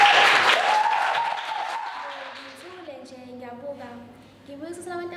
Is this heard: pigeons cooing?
no